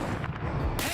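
Sniper rifle shot in the State of Decay 2 video game, a single dense booming blast filling the whole short moment, loud and close with a heavy low-end punch.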